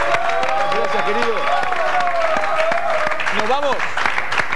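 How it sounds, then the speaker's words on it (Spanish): Studio audience applause on an Argentine TV talk show, a steady wash of clapping mixed with crowd noise while voices chatter over it throughout. "¿Le podemos dar un aplauso a Claudio que estuvo con nosotros?"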